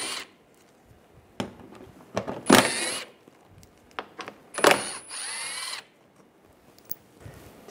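Ratchet with an 8mm socket backing bolts out of the undershield on a 2006-2009 Mercedes-Benz E350, heard as several separate bursts of rapid clicking and rattling, close and moderately loud, with quiet gaps between them.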